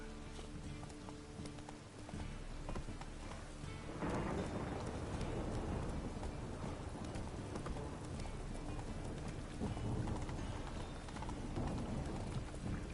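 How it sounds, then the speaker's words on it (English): Rain and rolling thunder in The Witcher 3, a steady wash of rainfall that swells into a loud sustained rumble partway through, with other game ambience underneath. "Rain, I like rain."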